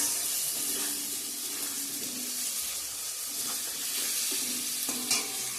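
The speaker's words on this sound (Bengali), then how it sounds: "সবজিগুলো দিয়ে দিচ্ছি সব, একটু ভাজা ভাজা করে নিয়ে ডালটা দিব।" Vegetables and potatoes frying in a pan for khichuri, a steady close sizzle with occasional scraping stirs and utensil knocks.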